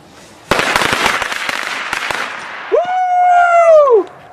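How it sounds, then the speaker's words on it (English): A firecracker bursts with a loud crack followed by a rapid crackling string of pops for about two seconds, then a dog lets out a long, drawn-out howling whine. "This is the firecracker shot."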